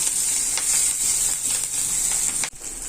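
Bay leaf, a dried red chilli and a green chilli sizzling in hot oil in a pan, a steady loud hiss with soft crackles and a brief stir near the end.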